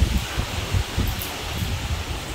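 Strong wind gusting outdoors, with low rumbling buffets and a steady rustle of leaves and loose objects, surging in uneven pulses throughout and heard alone without talk.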